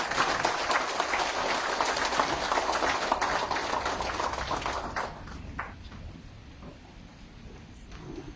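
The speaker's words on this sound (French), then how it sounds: "nous demandons tout le monde un très grand applaudissement pour accueillir le Premier ministre" Applause welcoming the Prime Minister at a sugar estate handover ceremony, a dense crowd of clapping hands that holds strong for about five seconds, then thins out and fades to scattered claps.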